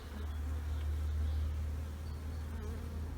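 Honey bees swarm and drone at an open hive during an inspection on a cold spring day, the brood box packed full; a steady, dense buzz holds close and loud throughout without a break.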